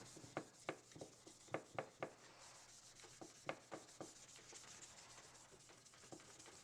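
Hand sanding a knife handle with 1000-grit paper: quiet rhythmic strokes, a cluster of short rasping passes, a pause, then another burst fading to lighter rubbing. No talking.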